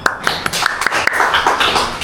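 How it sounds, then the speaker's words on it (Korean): Audience clapping in a church sermon setting, a brief burst of sharp, fairly close hand claps in loose rhythm over about two seconds. "박수 한번 쳐주세요."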